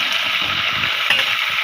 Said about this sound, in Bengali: আমার শাকগুলোকে নাড়িয়ে চাড়িয়ে নিচ্ছে।